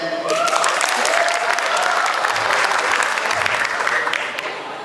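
A comedy show crowd bursts into loud, sustained applause, dense clapping filling the room at steady strength before tapering slightly at the end.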